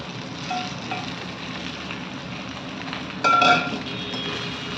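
Pre-made rava masala idli drops into a sizzling pan, with a steady hiss and a sudden louder crackling burst partway through before the frying settles back to a continuous sizzle.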